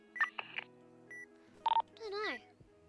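Short electronic beeps sound in a video game, a few clipped tones in quick succession, then a brief pause and a rising chirp, fairly quiet and close.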